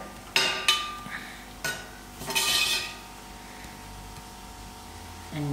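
A utensil clinks and scrapes against a bowl as samosa filling is mixed with barbecue spice and dry herbs: a few sharp knocks, then a rougher stirring scrape, close and moderately loud.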